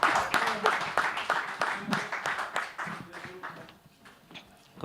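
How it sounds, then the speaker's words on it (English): An audience at a team challenge event gives the teams a round of applause: scattered, uneven claps that thin out and fade over a few seconds, with voices talking over them. "Guys, please give them a round of applause."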